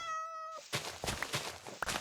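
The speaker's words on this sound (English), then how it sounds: "Listen to the kitty." A cat meowing in the video game Minecraft, a clear tonal meow followed by a few soft thunks and faint clicks, close and alone with no talk.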